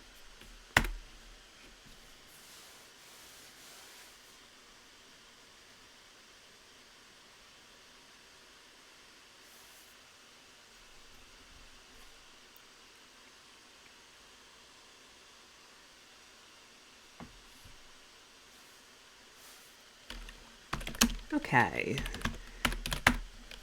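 Bursts of typing on a computer keyboard, a few scattered clicks early on, then a quick, dense flurry of keystrokes near the end, close and fairly quiet over low room hiss, with a brief word spoken.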